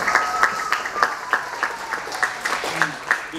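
A crowd at an AWANA awards event applauds its volunteers with rhythmic, fairly loud clapping that repeats steadily, with voices mixed in.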